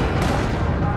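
Dense, loud gunfire roars in Gears of War 4, a continuous burst of overlapping shots filling a short moment of combat.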